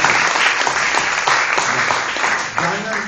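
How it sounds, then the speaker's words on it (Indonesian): An audience at a startup weekend event breaks into loud, sustained applause, with dense clapping filling the whole stretch. "Tepuk tangan buat Imam."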